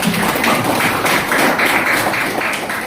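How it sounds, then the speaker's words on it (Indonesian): Classroom applause for a student group: dense, steady clapping from many hands, fairly close and loud, lasting the whole stretch with no talk over it. "Kalau begitu silakan diberikan aplaus kepada temannya kelompok 1."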